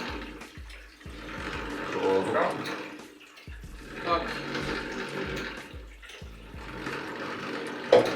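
Water is poured into a film developing tank during home film processing, a close, bubbling trickle that comes and goes in surges. People talk briefly over it.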